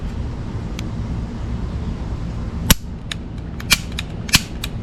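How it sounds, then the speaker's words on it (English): A CZ-82 pistol is dry fired, giving sharp metallic trigger and hammer clicks, one sudden snap followed by a couple of lighter clicks over a low background hiss. "let's try out this trigger"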